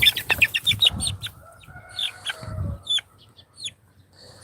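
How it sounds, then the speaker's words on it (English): A white-feathered chicken with black feet clucks repeatedly at close range on a farm, short bursts of clucks and squawks coming in an uneven rhythm with no one talking. "And this chicken knows that there's food and water inside"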